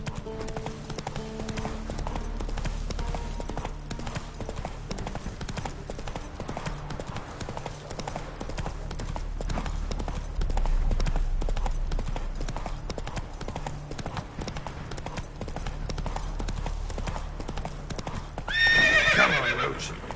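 Roach the horse gallops in The Witcher 3 with a steady, close clip-clop of hooves, and a loud neigh breaks out near the end.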